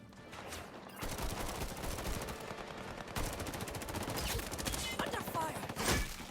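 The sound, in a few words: gunfire in the video game Highguard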